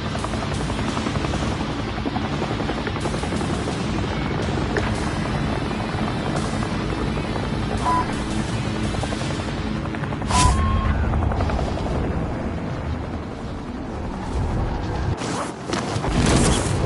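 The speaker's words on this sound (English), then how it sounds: "Helicopter located." Helicopter rotor noise from a battle royale video game drones loudly and continuously throughout, with a brief boom partway through and no talking.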